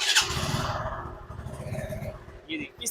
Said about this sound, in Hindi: मैंने बाइक को स्टार्ट किया